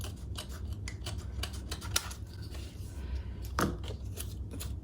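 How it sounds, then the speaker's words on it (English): Scissors snip through journal paper close to the binding in a series of short, crisp cuts, some spaced and some in quick bursts, heard close up with no talking. "you need to cut this paper, but you don't want to cut that binding"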